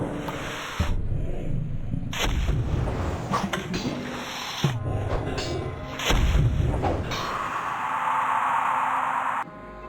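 Wheeled cannons fire in the video game Dread Delusion, a run of heavy booming blasts spaced a second or two apart over a constant hiss, loud and close, with no speech.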